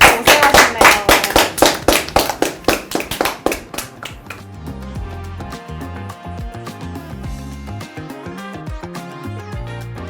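Quick rhythmic hand clapping for about four seconds to close an online livestream discussion, each clap sharp and close, then fading into background music.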